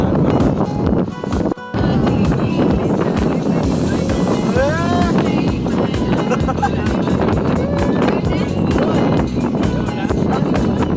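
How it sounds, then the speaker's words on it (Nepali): Steady wind at a beach buffets the microphone with a loud, continuous rumble, while people talk and laugh nearby and an engine-like drone hums underneath. "अलि हावा चलेको"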